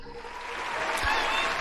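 A short burst of scattered clapping during a cryptocurrency mining livestream, fairly faint and brief, with a light thump partway through.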